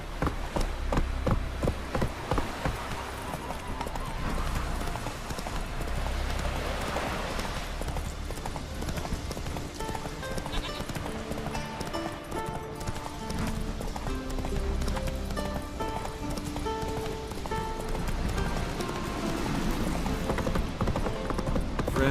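Hooves of Roach, a horse in The Witcher 3 video game, clip-clop in a steady galloping rhythm throughout, close and prominent over a continuous bed of game music.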